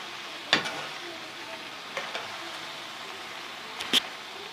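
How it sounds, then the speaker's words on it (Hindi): Potato and eggplant curry gently sizzles in a pan as it is stirred, with a few sharp spoon clinks against the pan standing out above a low, steady frying hiss. "इस तरह इसको मिक्स कर लें, मसाला सारी जगह लग जाए तो अच्छा लगता है"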